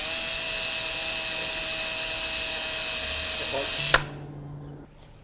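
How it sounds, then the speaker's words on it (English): A number 28 drill bores through an AGA door lever using a billet aluminum bracket as a guide, a steady high whine running for about four seconds before stopping abruptly with a sharp click. "with the supplied number 28 drill, use the billet aluminum bracket as a drill guide and drill through the lever"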